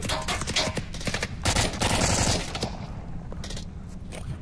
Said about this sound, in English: Guy shooting from far left.